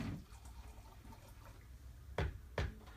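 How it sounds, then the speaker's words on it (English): Lukewarm water pours into a bowl of self-rising flour, a faint liquid trickle with two sharper splashy bursts near the end, close and quiet with no talk. "And I'm going to do some lukewarm water."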